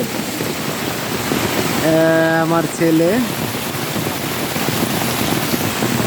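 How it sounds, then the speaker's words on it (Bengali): Heavy rain pours over a paddy field in a dense, constant hiss, while someone briefly speaks up close partway through. "দুর্দান্ত বৃষ্টি হয়ে যাচ্ছে চারপাশে"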